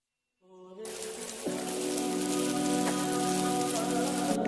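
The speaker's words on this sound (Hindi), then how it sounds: "बाहर कितनी बारिश हो रही है ना।" Heavy rain falling outdoors, starting abruptly after a moment of near silence and building into a steady, loud, hissing downpour with dense spattering drops that continues without letup.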